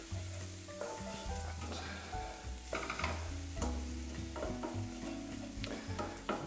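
Paella rice is stirred into a sizzling pan mixture, with repeated scraping and rattling strokes over a constant frying hiss, close by and without talk.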